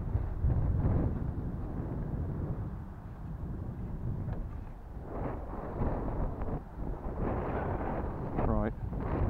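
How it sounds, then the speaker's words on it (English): Wind gusts outdoors at a glider catapult launch site in Portishead, a steady low rumbling roar buffeting the microphone throughout, with someone talking over it. "Right, that wind's picked up now."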